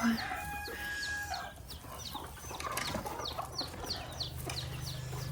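A broody hen and other chickens clucking nearby in irregular bursts over a steady low background hum, with a brief higher squawk at the start.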